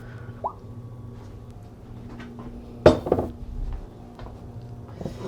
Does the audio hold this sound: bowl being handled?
yes